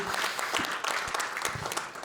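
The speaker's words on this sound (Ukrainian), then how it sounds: "Добре, молодці, вас аплодує більше, ніж в Тернополі" Audience applause in a lecture hall during a stand-up style talk, dense steady clapping from a live crowd filling the whole stretch.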